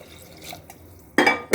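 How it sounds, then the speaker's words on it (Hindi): Hot water poured into a pot of fried yellow moong dal, Dogri style, heard as two short, loud splashing bursts after a quiet stretch. "अब मैं इसमें गर्म पानी डाल रही हूँ"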